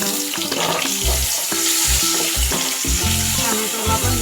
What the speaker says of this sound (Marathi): टोमॅटो आपल्याला सॉफ्ट होईपर्यंत परतवून घ्यायचं आहे.